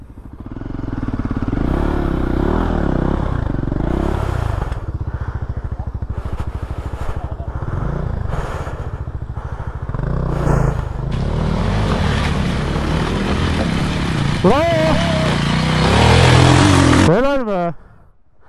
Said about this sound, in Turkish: İki motor geçti.